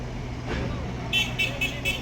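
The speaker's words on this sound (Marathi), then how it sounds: "ही एक गाडी जाते आता ही टर्न मारेल" A vehicle rolls past on a road at the Devla junction on the Malegaon–Chandwad highway, a moderate whoosh of traffic noise with a few short high beeps near the end while a person talks.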